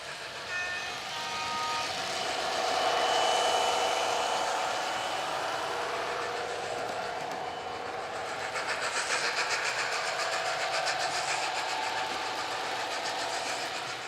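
TT:120 model trains circle a model railway layout in opposite directions on two main loops, giving a steady close whirring rumble with faint rhythmic clicking over the track, with no voices.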